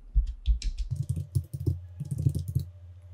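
Keystrokes on a computer keyboard during a server terminal session, a quick run of close clicks and taps with a steady low hum underneath.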